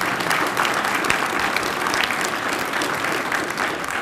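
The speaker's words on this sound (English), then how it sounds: "Would you give a round of applause to Mary Stevens?" Audience applause at a university award event, dense continuous clapping from a large crowd, steady and fairly loud for the whole stretch.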